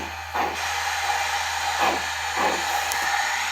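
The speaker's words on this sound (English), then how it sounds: "The chuffing is really nice on this model." A Life Like Proto 2000 PRR 2-8-8-2 model steam locomotive chuffs in soft, evenly spaced bursts over a steady electronic hiss and low hum, with a brief high tone near the end.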